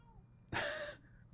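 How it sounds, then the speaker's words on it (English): A pet cat meows at someone's feet indoors, one clear, fairly loud tonal cry of about half a second, with quiet room sound before and after. "So she's just meowing at my feet like crazy."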